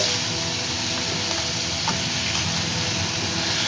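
Roasted garlic and onion paste hitting hot oil with bay leaf and green cardamom in a frying pan for a traditional Bengali tel potol curry, giving a steady, close, dense sizzle that runs without a break and with no talk.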